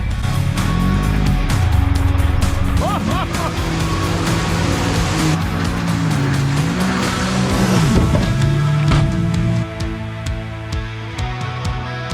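A Kawasaki KRX 1000 side-by-side pushes along a trail, its loud engine rising and falling in revs while the tires scrub and slip, sounding up close throughout.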